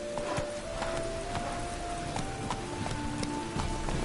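Roach, the horse in The Witcher 3 game, gallops with a steady run of hoof clip-clops over a continuous bed of game ambience, hooves fairly close and moderately loud.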